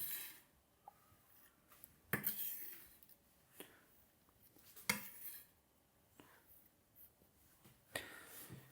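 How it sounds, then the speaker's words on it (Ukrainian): A knife chops dill finely on a board, making soft, scattered taps and light scraping at an uneven pace, close but quiet in a calm kitchen. "Кріп я ріжу досить дрібно."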